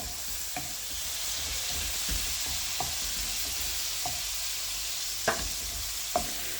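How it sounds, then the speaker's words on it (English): Tinned potatoes sizzle steadily in hot oil in a pot, a close continuous frying hiss broken by a few sharp clicks and pops from stirring, with no voices. "There we go, look, we're getting the sizzle back."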